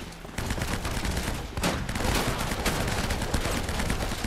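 Rapid, sustained bursts of gunfire from an Uncharted shootout, dense overlapping shots and automatic fire that begin after a brief pause and keep going loud and close throughout.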